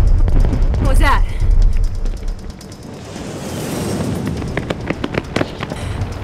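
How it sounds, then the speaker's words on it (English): Heavy cluster bomb blasts in an action movie rumble loud and close, a dense low roar with sharp crackling bursts, followed by a thinner wash of scattered pops and debris. "Cluster bombs. It's at the foot of the city."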